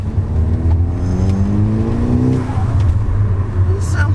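A broken Audi S3 in limp mode drives along, its engine droning steadily with rising harmonic sweeps as it pulls with little power. Low road and cabin rumble stays constant throughout, with no talking.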